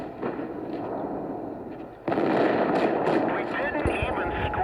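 Tank cannon fire in World of Tanks, with tier 7 tanks including the M4 and T29, heard as a steady rumbling battle bed that jumps into a loud, dense burst of gunfire and impacts midway, with a voice talking underneath.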